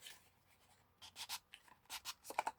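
Quiet scratchy pen strokes on paper, a few short bursts of writing with brief pauses between them, close up and with no talking.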